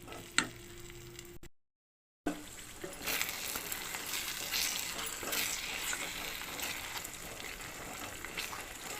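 Cashew paste curry masala frying in a pan, a steady broadband sizzle with faint ticking crackles running continuously after a brief gap of silence near the start.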